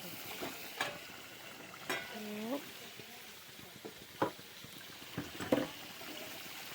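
Meat cooks in a home kitchen pan while being stirred, with scattered scraping clacks and a soft sizzle beneath, and a brief voice sounding partway through.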